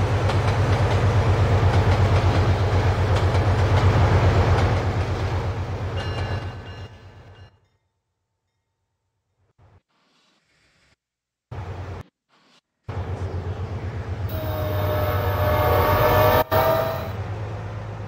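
NS 378 mid-DPU freight train in the Trainz 12 simulator rolls past loud and steady with a deep engine drone and rail clatter, drops to near silence mid-clip, then returns with a rising horn-like tone near the end.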